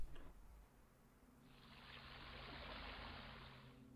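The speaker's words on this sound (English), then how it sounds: "running water" Running water in the puzzle game Rhem: after a short thud, a steady rushing stream swells in and keeps flowing, moderately close and alone.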